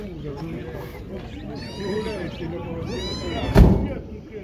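Several high, thin kitten meows overlapping one another nearby at a pet and bird market in Kropotkin, Russia, with people talking underneath and a sharp bump near the end.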